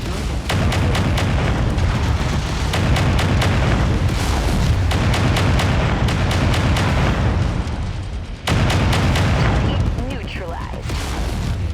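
Mech weapons fire in the video game MechWarrior 5: Mercenaries, with repeated loud booms and sharp blasts landing in quick irregular volleys over dense battle noise, and a voice talks over it.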